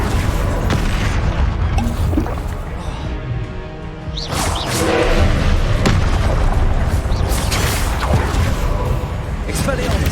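Repeated Confringo fire spell blasts in Hogwarts Legacy, loud booming impacts landing one after another with a spoken voice between them.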